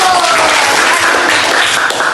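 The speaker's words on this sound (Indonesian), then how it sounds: "Tepuk tangan dulu" A classroom breaks into loud, dense applause, many hands clapping together in a continuous wash for two seconds.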